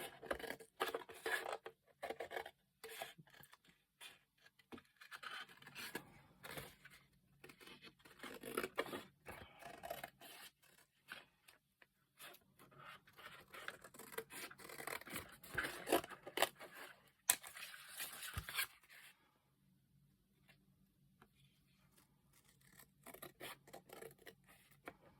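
Scissors snipping through coaster backing material, a long run of quiet, rapid crisp cuts and rustling at close range with a short pause near the end.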